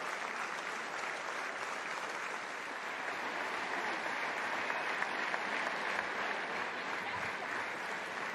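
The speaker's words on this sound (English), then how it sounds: "Nice touch, of course, from the French crowd applauding." A French stadium crowd at the France v Scotland Women's Six Nations rugby match in 2023 applauds in a steady, distant wash of clapping that holds evenly throughout, fairly faint and with no single voice standing out.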